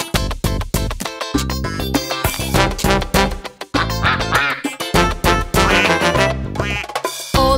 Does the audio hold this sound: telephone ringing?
no